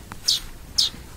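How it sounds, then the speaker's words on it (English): A baby goldfinch chick gives two short, high chirps about half a second apart, close and clear over faint room noise. "We never had to deal with a baby bird before."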